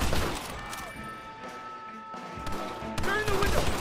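A game shootout in Red Dead Redemption, with scattered gunshots and crashing impacts in the foreground and shouted voices over the fire.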